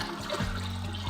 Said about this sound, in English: I'm just gonna be careful and pour it in straight from the bucket.